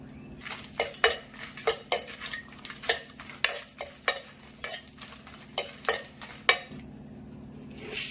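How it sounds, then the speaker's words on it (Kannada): Five Byadgi red chillies fry in oil in a pan, a soft sizzle under a rapid run of sharp spoon-on-metal clinks and scrapes from stirring, close and fairly quiet. "ಇದಕ್ಕೆ 5 ಬ್ಯಾಡಗಿ ಮೆಣಸಿನ್ಕಾಯಿ ಹಾಕ್ತಾ ಇದ್ದೀನಿ."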